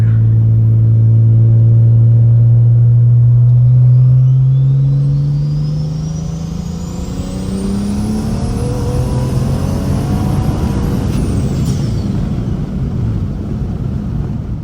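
A BMW 335i fitted with a big single turbo and anti-lag, running 26 psi, pulls hard in third gear with a manual gearbox. Its engine note climbs steadily and loudly, with a deep rumble and rising harmonics, and no voices are heard.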